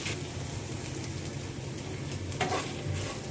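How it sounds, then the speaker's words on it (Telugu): Rock salt and spices fry in a pan with a steady crackling sizzle and stirring scrapes while drumstick-leaf spice powder is being made. "వేసి కొంచెం ఫ్రై చేద్దామండి."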